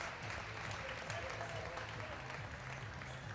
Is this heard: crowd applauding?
yes